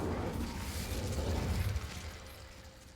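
An Incendio fire spell cast in Hogwarts Legacy: a burst of roaring flame with crackling pops and a low whooshing rumble that swells, then settles into quieter game ambience.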